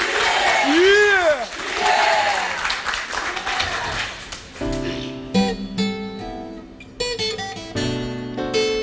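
A school audience at a Portuguese-language TV show cheers and applauds loudly. The crowd noise stays dense for several seconds, with a presenter's voice and music over it, then gives way to music alone.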